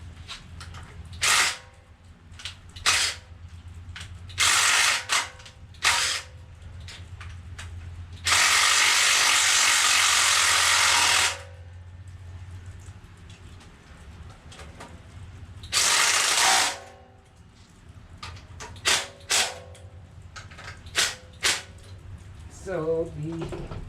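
Ratchet tightening power steering pump bolts on a 7.0-liter 427 cubic inch LSX engine, with rapid clicking bursts, two long sustained ratchet runs, and scattered metallic taps and clinks, close and loud over a low background hum.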